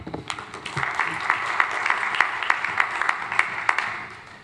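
Steady applause from an audience, many hands clapping together at moderate volume throughout.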